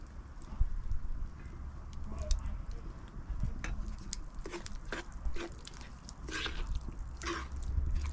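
Cooked rice is mixed into vathakuzhambu in a pan, giving soft, irregular squishes, sticky pats and light utensil scrapes close by, with no talking.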